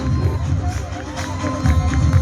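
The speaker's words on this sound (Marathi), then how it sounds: "टाळ्या थांबलं नाही पाहिजे" A lively crowd at a Dr. Babasaheb Ambedkar Jayanti celebration claps and cheers for a children's mallakhamb pole display, with dense, steady applause and excited shouts swelling near the end.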